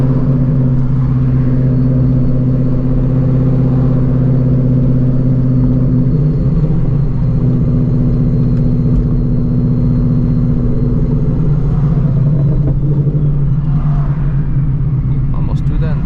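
A 950-horsepower Shelby GT350 with a broken transmission rumbles loud and steady as it drives, its low engine drone holding throughout with a slight shift in tone midway.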